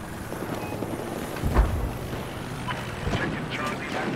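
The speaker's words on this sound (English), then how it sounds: "Helicopter's coming out." A helicopter in a Flood Zone multiplayer shooter drones with a steady low rotor rumble, punctuated by a few distant bursts of gunfire and impacts, while a voice speaks over it.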